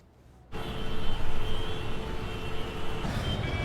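Steady rumble of city street traffic in a Tamil film scene, engines droning and vehicles passing nearby, a continuous wash of motor noise with no talking.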